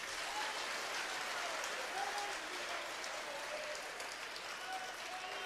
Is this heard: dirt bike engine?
no